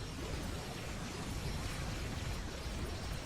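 A bomb detonates in the video game Geometry Wars 3: Dimensions Evolved, a sustained, dense, fairly quiet roar of noise that holds steady throughout with no break.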